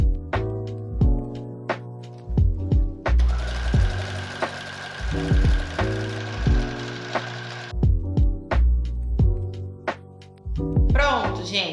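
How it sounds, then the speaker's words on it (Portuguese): Sewing machine stitching along strips of fabric for a kitchen apron, running in short repeated bursts with pauses between them and one longer stretch of steady whirring in the middle. Close and fairly loud. "E também já vou passar a costura nessas tiras"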